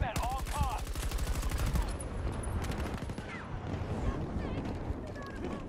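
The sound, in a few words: gunfire in the video game Battlefield 2042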